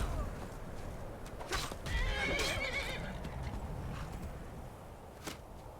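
A horse in a video game neighs and whinnies amid clip-clopping hooves during a fight with bandits, the calls rising over a low, quiet backdrop.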